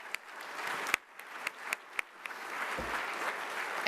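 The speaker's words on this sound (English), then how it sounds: "if you'll join me in giving a round of applause to this incredible team" Soft, scattered applause at a veterans and military summit for a team, with a few sharper claps standing out from a thin, steady patter of clapping from a small audience.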